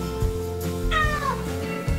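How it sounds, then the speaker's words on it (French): A cat yowls loudly and close by in a drawn-out, wavering wail that rises and falls, heard alone without talk. "Non, non, mon chat il hurlait à la mort, mais tellement, c'était tellement dingue."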